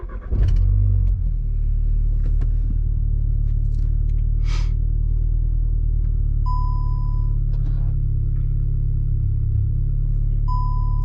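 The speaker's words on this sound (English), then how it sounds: "so I'll go ahead and start the car." A Volkswagen Golf Mk7 engine cranks and catches near the start, then settles into a steady, loud idle rumble with a few interior clicks and chime-like warning tones over it.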